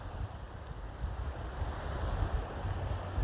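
Ocean surf washing onto the beach at Playas del Coco, Costa Rica, a steady broad roar of breaking waves with wind buffeting the microphone, continuous and fairly loud throughout with no talking.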